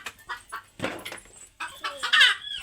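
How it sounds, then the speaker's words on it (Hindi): Hens laying eggs cluck in short, choppy bursts, close by, with a louder squawking flurry near the end. "देखिए मुर्गी अंडा दे रही है पक पक पक पक करके।"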